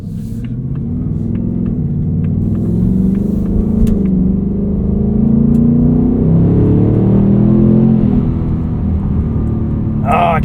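Loud, deep exhaust rumble from a 2024 Ford Mustang GT coupe with a 10-speed automatic, heard from inside while accelerating, the engine note rising and building steadily through several seconds with a brief gear-change shift, and a voice at the very end.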